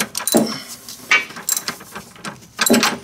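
A ratchet wrench tightens a bolt on a new adjustable rear suspension for a DeLorean, giving short bursts of clicking strokes separated by brief pauses, close and fairly clear.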